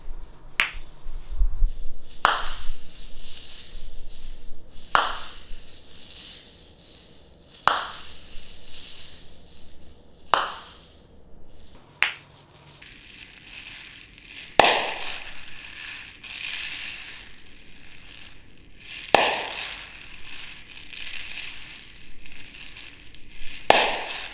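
Asalato shakers clacking in sharp, evenly spaced hits, about two seconds apart, with a soft rattling swish between strikes, played alone and close during an Airturn trick.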